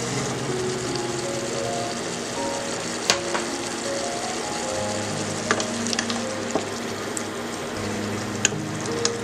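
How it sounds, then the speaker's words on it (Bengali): Tomato paste frying in oil for a fish curry, a continuous close sizzle and bubbling with occasional sharp clicks of a spoon against the pan, steady throughout without speech. "এটা একটু ভাজা ভাজা করে তেল উঠে আসলে"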